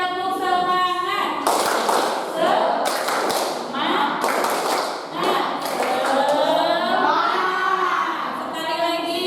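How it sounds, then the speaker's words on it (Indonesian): A school class of seventh graders performs a rhythmic spirit clap, with bursts of sharp group claps and thumps falling in a patterned beat while voices chant and call along throughout. "Kelas 7B tepuk kelas 7B tepuk semangat."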